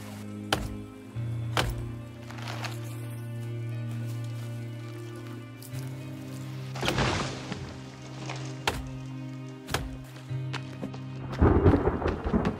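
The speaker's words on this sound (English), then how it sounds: "finally it's raining" Rain and thunder in The Forest video game: steady rainfall with several sharp cracks and rolling booms of thunder, one heavy rumble midway and a louder burst at the end, no talking.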